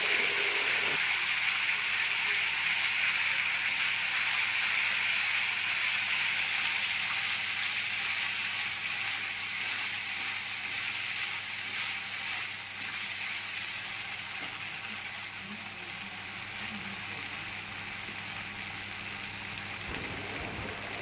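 Ground spice paste sizzling and frying in a hot pan for a fish-roe fritter curry, a loud steady crackling hiss that continues evenly throughout, easing slightly toward the end, with no voices.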